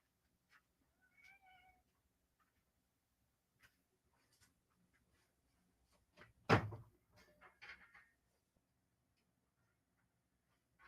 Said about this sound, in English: my wife's cat was shut in here with us, and she just was not about it